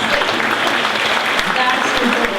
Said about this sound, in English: Go ahead and give yourself an applause